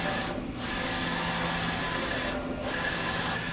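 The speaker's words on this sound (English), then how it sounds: "underneath the print head where it's printing right now, there is a heater" A Roland VG3-540 large-format printer runs mid-print, a steady mechanical whir and hum with the print head carriage sweeping back and forth in two brief passes, constant and fairly loud with no talk.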